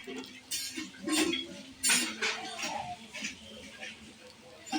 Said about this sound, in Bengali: এবার খুব ভালোভাবে নাড়িয়ে চেড়ে নেব